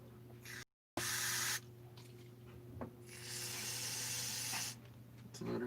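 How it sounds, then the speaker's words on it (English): Aerosol brake cleaner sprayed in a home workshop while repairing a stripped hole, several close hissing bursts of varying length separated by short pauses and quiet gaps. "bit of brake cleaner."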